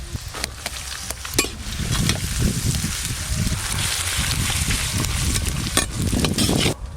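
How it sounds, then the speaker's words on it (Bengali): Chopped onion goes into hot ghee and white oil already holding mustard seeds, dried red chilli and lightly browned garlic, giving a steady, close sizzle with crackles and a few sharp stirring knocks. "এবার পেঁয়াজ কুচি দেব।"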